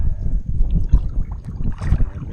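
Strong wind buffets the microphone with a steady low roar, gusting throughout, on the Everglades Wilderness Waterway.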